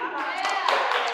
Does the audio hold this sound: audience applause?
yes